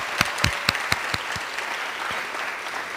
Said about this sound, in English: So big applause for them as well.